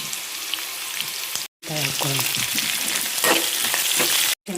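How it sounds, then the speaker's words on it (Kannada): Green chillies frying in a hot pan for cabbage palya, a busy close sizzle and crackle with stirring scrapes that run steadily across the clip, broken twice by very short gaps of silence. "ನಂತರ ಹಸಿಮೆಣಸಿನ್ಕಾಯಿ ಹಾಕ್ಕೊಳ್ಳೋಣ. ಹಾಕ್ಕೊಂಡು ಬಾಡಿಸ್ಕೊಳ್ಳೋಣ."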